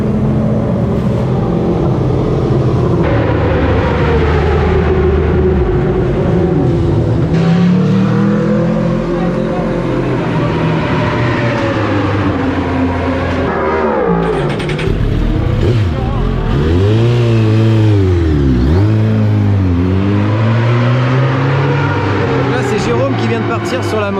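Racing motorcycle engine on a track during Le Mans 24 Hours practice, loud and near, revving up and down in repeated sweeping rises and falls, with other bikes around and a voice talking over it.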